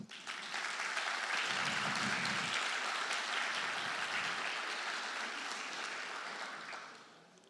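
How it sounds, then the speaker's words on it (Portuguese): A church congregation applauds the women, steady dense clapping filling the room for several seconds before tapering off near the end. "Uma salva de palmas para as mulheres."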